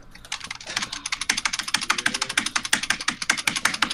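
Computer keyboard keys tapped in a rapid, steady stream of sharp clicks, close and fairly loud, with no talk over them.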